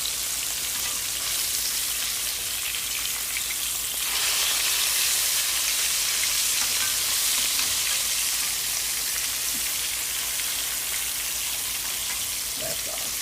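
Pork chops sizzle in a frying pan just after being flipped, a steady dense crackle and hiss that swells slightly midway and continues without talk.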